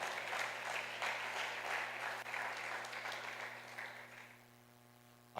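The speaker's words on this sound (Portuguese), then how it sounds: "Quem recebe essa palavra, dê um aplauso ao Senhor" A church congregation claps together at a conference service, a dense, steady wash of applause that holds strong for about four seconds and then thins out toward the end.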